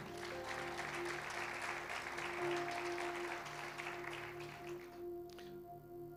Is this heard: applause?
yes